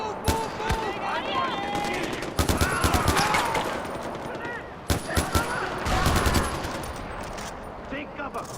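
Bursts of automatic gunfire in the Far Cry 4 video game, from an escape from De Pleur's compound, crackling in clusters over steady battle noise while voices shout.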